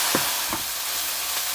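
Minced garlic and carrots cooking in a pan for tteokbokki, a steady hiss of frying with two or three soft stirring scrapes early on, close and alone.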